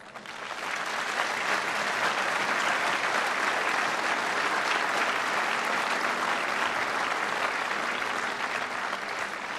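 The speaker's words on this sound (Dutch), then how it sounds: "So a warm applause for the veterans." Warm applause for veterans at a liberation commemoration marking a 70th anniversary, a large crowd clapping steadily and evenly, building up in the first second and holding.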